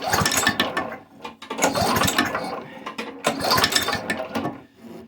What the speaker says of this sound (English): Sounds like the blade is hitting something underneath.